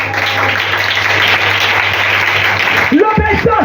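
A church congregation applauds and cheers for Jesus in a dense, steady roar of clapping under a constant hum, with a voice breaking in near the end.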